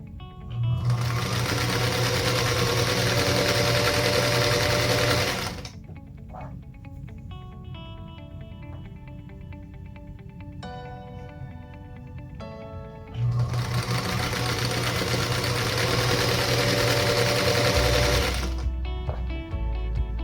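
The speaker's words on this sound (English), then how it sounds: "we'll sew right along that diagonal line on all 4 of those squares. And again, back to chain piecing." A domestic sewing machine chain piecing a quilt block along diagonal lines, running in two long steady bursts of loud whirring stitching separated by a quieter gap of handling noise.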